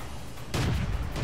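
A tank cannon fires in the game World of Tanks, a single loud, booming shot that hits suddenly and rumbles on for a moment, with no talk over it.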